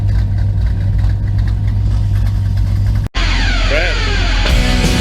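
Several muscle cars idle together in a shop, a steady low engine rumble that cuts out briefly around three seconds and returns brighter, with faint whining tones over it.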